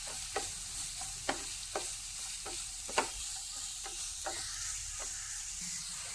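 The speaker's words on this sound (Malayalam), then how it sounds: "ഇനി ഇതെല്ലാം കൂടി ഒന്ന് വഴറ്റി കൊടുക്കാം" Sliced onion, carrot and green chili sautéing in a pan: a soft continuous sizzle broken by regular clicks and scrapes of a spoon stirring against the pan, close by.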